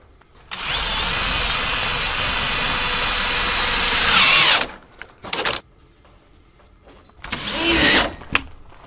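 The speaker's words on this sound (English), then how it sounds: "I'm just getting enough screws in here to hold the panel in place" A cordless power drill drives screws into a large shop door panel, one long steady whir of about four seconds followed by a few shorter bursts, close and loud with no talking.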